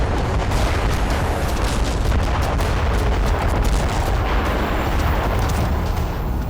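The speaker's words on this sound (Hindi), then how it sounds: "दावा है कि इजराइल का यह विस्फोट नसरल्लाह पर हुए हमले से भी बड़ा और विध्वंसक था" Israeli bunker buster bombing produces a continuous, loud rumbling roar of blasts, dense and unbroken for several seconds with no voices present.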